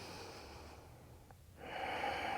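One long inhale through the nose during a vinyasa yoga flow, soft and close, a gentle airy breath swelling in a quiet room before a louder rushing breath sound at the end.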